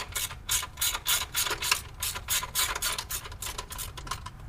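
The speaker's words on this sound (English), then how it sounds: "Let's just loosen these 3 nuts." A ratchet clicks in fast, steady strokes while loosening the nuts on a car's power steering pump, a close, even mechanical clatter with no talking.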